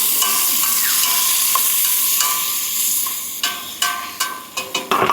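Onions, ginger and garlic sauté in butter in a pan outdoors, a loud steady sizzle broken near the end by several sharp clinks and scrapes of stirring.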